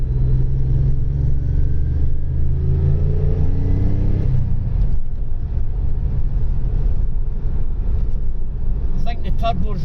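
A turbocharged Lotus Carlton estate pulls away from idle, its engine swelling into a loud, deep, rising drone that stays heavy and continuous, with rumble and road noise filling the rest.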